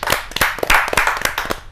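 An audience at a Hindi poetry gathering claps to welcome poet Dev Kumar Panwar, with sharp, close individual hand claps arriving unevenly in a short, scattered burst.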